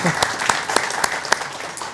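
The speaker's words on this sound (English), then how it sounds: "let's give it an applause" Scattered hand claps from a summit audience on ship autonomy and sustainability, a few sharp, separate claps popping over a soft background for a couple of seconds.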